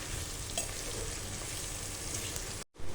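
Okra curry (bhinda nu shaak) mixed with chutney sizzles steadily in a frying pan as it is stirred, a close continuous hiss that cuts out abruptly near the end before resuming briefly.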